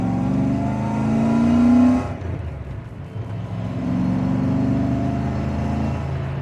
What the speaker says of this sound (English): if you open the throttle you can hear that induction noise from the twin throttle body